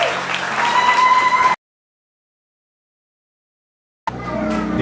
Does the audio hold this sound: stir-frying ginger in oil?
no